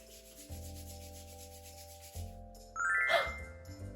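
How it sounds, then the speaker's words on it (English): Hands rub together in a steady brushing swish over soft background music, with a bright chime-like sparkle near the end, in a children's learning show. "Put your hands together and rub them like this."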